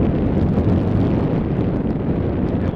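Strong wind buffets the microphone on a mountain summit, a loud, continuous low roar with no pauses or voices.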